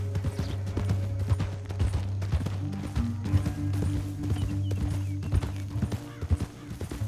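Horse hooves clip-clop steadily along a path in Red Dead Redemption 2, with a deep constant hum and rumble of game ambience underneath and no talking.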